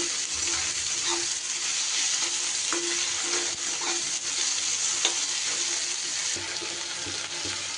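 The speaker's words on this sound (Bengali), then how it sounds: "এটাও তেলের সাথে একটু সময় নাড়াচাড়া করে নেব।" Vegetables sizzle steadily in hot oil in a pan while being stirred, a continuous close frying hiss with occasional scraping and clinking of the utensil against the pan.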